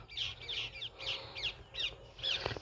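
Crows caw in a steady series of about seven calls, moderately distant and clear, outdoors beside a vegetable garden, with a soft low background hum and no talking.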